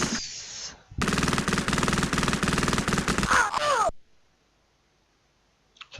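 Rapid automatic gunfire from the Amiga-era war game Cannon Fodder, a dense, loud burst of repeated shots lasting about three seconds, then cutting to near silence.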